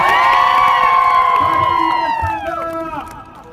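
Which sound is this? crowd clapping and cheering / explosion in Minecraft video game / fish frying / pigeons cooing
crowd clapping and cheering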